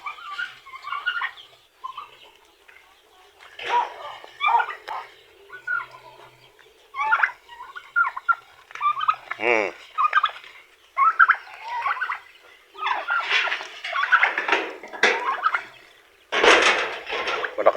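Turkeys gobble repeatedly in bursts, fairly close, with rapid warbling calls that grow louder and denser toward the end.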